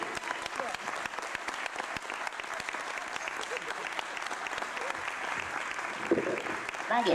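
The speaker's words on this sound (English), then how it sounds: "Gentlemen, give a warm round of applause for the one and only Kenny Baker, R2-D2." Convention audience at a 1995 Star Wars Q&A applauding warmly, dense sustained clapping from a large crowd throughout, with a voice speaking over it near the end.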